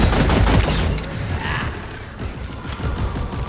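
An automated turret in the game Deep Rock Galactic fires a dense, rapid burst of gunfire up close, with mechanical clatter running through the volley before it eases into scattered, lighter rattling.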